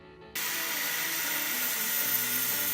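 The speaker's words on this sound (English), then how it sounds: "I've got to cut my round stock, and we'll do that with the angle grinder." An angle grinder cuts through round steel stock, starting abruptly after a brief quiet moment and then holding a loud, steady high-pitched whine and grind close by for the rest of the clip.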